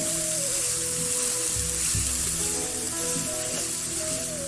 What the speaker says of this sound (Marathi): यामध्ये आपण बारीक चिरून घेतलेली भाजी ऍड करणार आहोत गॅस बारीक ठेवायचा भाजी परतून घ्यायची